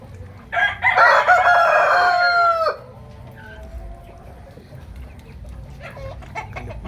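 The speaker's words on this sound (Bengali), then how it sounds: "এই দেখুন দেশি মুরগিগুলো।" A desi rooster on a poultry farm crows loudly and close for about two seconds, followed by softer scattered clucking from hens against a quiet farmyard background.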